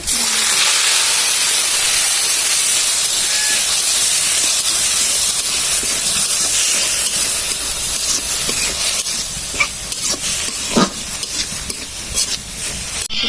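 Chickpea greens fry and get stirred in a pan with browned onion and garlic, a steady loud sizzle and hiss running throughout, broken near the end by a few sharp scrapes and clacks of the spoon.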